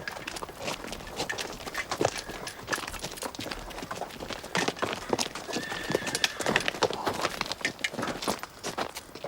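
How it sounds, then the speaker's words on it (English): Several horses walk with a steady, overlapping clip-clop of hooves throughout, joined by an occasional neigh, fairly close and continuous. "Horses."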